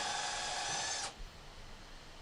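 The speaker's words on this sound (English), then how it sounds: "we're using a 7/8 bit to drill for that" A power drill spins a 7/8 inch bit through a Jenga block of wood for a guitar's flat-mount output jack, a loud steady whine for about a second that cuts off abruptly, leaving faint room noise.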